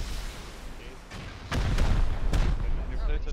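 Rocket explosions boom in the survival game Rust during a base raid, several heavy blasts landing in quick succession, loud and close, with players talking over them.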